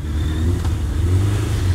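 A newly bought motorcycle's engine idles and revs close by, a steady loud mid-pitched drone with a slight rise partway through, heard alone without talk.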